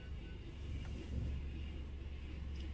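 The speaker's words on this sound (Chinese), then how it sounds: "然后呢往后倒车，我们车子啊就能顺利的进入车位" A car reverses slowly into a parking space in a driving-school setting, its low engine rumble steady and close throughout with no talk over it.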